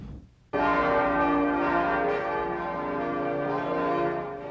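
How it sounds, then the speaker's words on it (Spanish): Bells of a Baptist church ring out loudly after a brief quiet start, a steady overlapping peal with long ringing tones, no voices present. "Las campanas de la iglesia Batista a la que Bill Clinton acude cada domingo se han hecho famosas."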